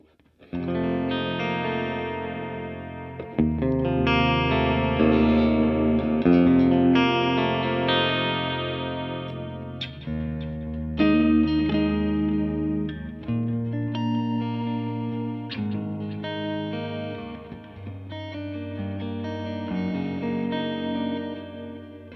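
Electric guitar played through an El Capistan tape echo pedal, sustained chords and notes with repeating echoes and warm modulation, continuous and loud with no talking.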